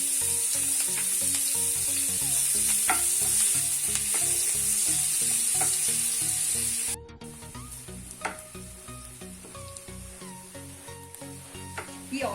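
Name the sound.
onions frying in oil and butter in a pan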